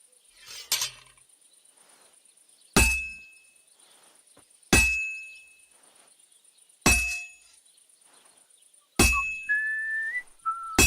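Blacksmith's hammer strikes on hot metal at a forge in Kingdom Come: Deliverance 2, four or five sharp ringing clangs spaced about two seconds apart, each decaying with a metallic shimmer over a faint high whine.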